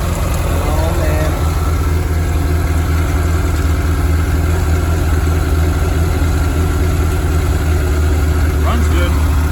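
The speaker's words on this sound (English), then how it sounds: "it's idling down like it's supposed to." A 1985 Dixie Bandit boat engine idles with a loud, steady low drone and rapid rhythmic chug, close by, running evenly throughout.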